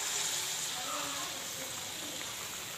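Balls of green gram batter, dipped in maida batter, frying in hot oil with a steady, soft sizzle and bubbling under someone speaking.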